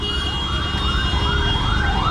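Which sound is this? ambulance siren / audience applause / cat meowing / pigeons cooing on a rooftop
ambulance siren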